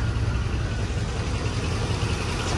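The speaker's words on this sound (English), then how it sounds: "It's idling good." 1973 International Harvester pickup engine idling after its first start in 40 years, a steady low rumble with a faint rhythmic chug, close and continuous with no talk.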